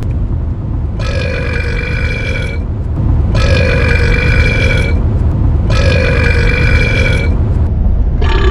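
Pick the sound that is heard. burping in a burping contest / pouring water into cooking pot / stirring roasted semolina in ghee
burping in a burping contest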